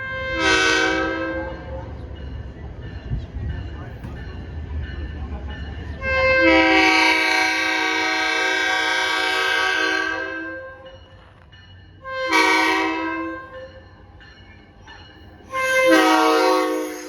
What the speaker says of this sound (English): our train, VRE number 336, pulled in